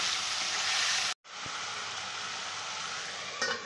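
Pumpkin frying in a pan hisses and sizzles steadily as Byadgi chili powder is stirred in, with a brief cut in the sound partway through and a faint scrape near the end.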